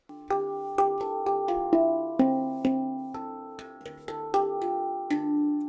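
A D Kurd handpan rings out a quick sequence of struck harmonic notes, each chiming clearly and sustaining as the next one enters.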